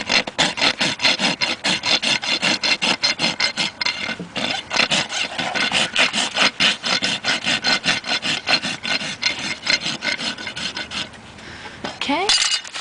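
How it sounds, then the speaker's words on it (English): A farrier's rasp works a horse hoof during barefoot trimming, making fast, steady, rhythmic rasping strokes that sound loud and close and continue almost without pause, with a brief lull near the end. "So I will pretty this up a little bit with this vertical cut."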